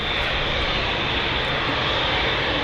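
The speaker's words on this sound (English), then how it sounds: "There is an EasyJet about to touch down as well." An EasyJet airliner, an A320 arriving from Malaga, comes in to land at Manchester Airport, its engines a loud, steady broadband roar held without a break.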